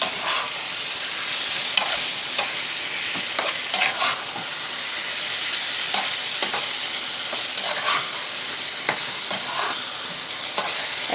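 Chicken frying for kosha in a pan, a continuous bright sizzle with frequent short scrapes and clatters as it is stirred, close up and steady throughout, no talking.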